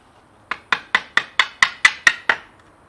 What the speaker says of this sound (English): I have the chisel under the cut so I can't cut into the sill.